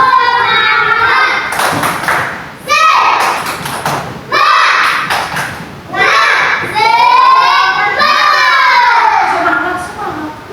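A first-grade class of children chants the 'tepuk semangat' clapping routine, loud shouted voices in bursts broken by sharp thumping claps, with a teacher's voice leading between the chanted lines.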